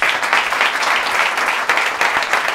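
Loud applause fills a public-speaking conference hall, a thick, continuous round of clapping from a large audience with no break.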